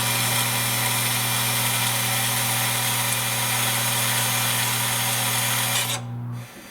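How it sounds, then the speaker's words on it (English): Electric parking brake motor at the rear of a Lexus GX550 unwinding in service mode, a steady whirring hum with strong low tones that runs alone for about six seconds, then cuts off. "The rear brake motor right now will unwind all the way"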